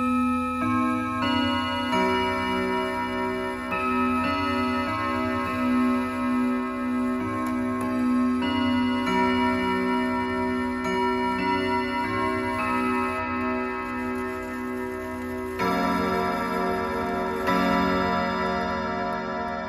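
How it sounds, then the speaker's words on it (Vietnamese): An Odo 36 clock chimes on white brass gong rods, striking a sequence of ringing metallic tones that overlap and sustain, with new notes entering every second or two over about twenty seconds, clear and close. "mời các bác thưởng thức ngay tiếng chuông của chiếc đồng hồ Odo 36 chơi chuông trên bộ gông nòng máng trắng và là bộ gông đồng"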